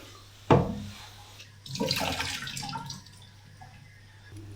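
Clothes hand-washed in water with Wilderness Wash detergent outdoors while backpacking, a sharp splash followed by about a second of sloshing and swishing water, close and fairly quiet.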